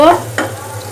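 Chopped onions frying in a pan, a steady low sizzle with a brief scrape of stirring partway through, close and fairly loud.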